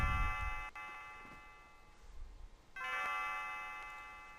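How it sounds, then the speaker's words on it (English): Bell ringing in Chrono Trigger, a bright chime that rings out, fades, then strikes again with a second sustained tone, clear and unaccompanied by speech. "Bell rings."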